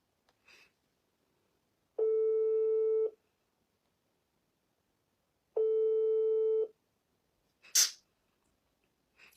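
Two long electronic ringback tones, each about a second, repeat with a pause between them, alone and clear while a call is placed by phone; a short sharp burst follows afterward.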